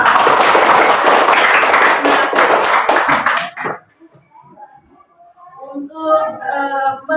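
A class of primary schoolchildren claps hands together in a burst of lively, close applause lasting a few seconds, then stops abruptly and gives way to a voice speaking.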